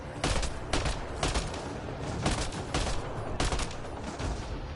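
Gunfire in the Mass Effect video game: dense rapid bursts of shots, several heavy volleys close together over a constant roar of combat, loud and continuous with no talk.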